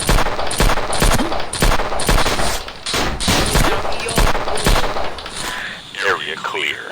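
Rapid gunfire in the Sierra 7 shooting video game, with repeated loud bursts of shots through most of the stretch before it thins out near the end.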